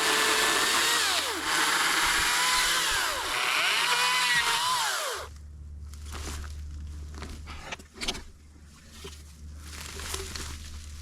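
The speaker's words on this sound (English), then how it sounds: "the electric chainsaw did it" An electric chainsaw runs loud and steady while cutting firewood outdoors, its whine bending as the cut loads and frees, then it stops after about five seconds, leaving a low hum and a few scattered knocks and rustles.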